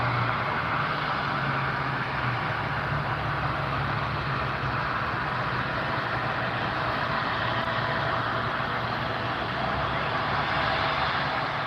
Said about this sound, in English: Qatar Airways Flight 778. A350 1000.